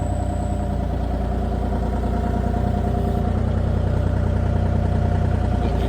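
A Bobcat E35 mini excavator's diesel engine runs at a steady idle, close and continuous, with a constant low rumble and no talk.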